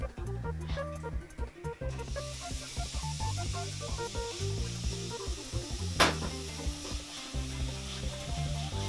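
Ground beef hitting a hot frying pan, a steady loud sizzle and crackle running throughout, with a few sharper spatters and some stirring, no talking.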